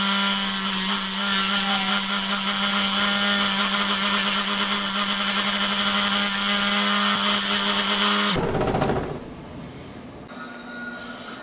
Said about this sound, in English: I'm going to take my parting tool, and I'll cut in the tenon right in here.